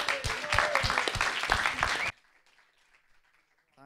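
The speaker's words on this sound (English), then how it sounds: "please give them a big round of applause" Audience applause for a stage act at a live music event, loud dense clapping for about two seconds that cuts off abruptly into near silence.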